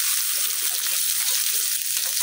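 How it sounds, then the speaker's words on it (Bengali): Chopped onion and garlic frying in hot oil, a loud, even sizzle that holds steady without a break for the whole stretch. "এখন আমি এই তেলের মধ্যে দিয়ে দেন পেঁয়াজ কুচি গুলা, পেঁয়াজের সাথে রসুনটাও দিয়ে দেন"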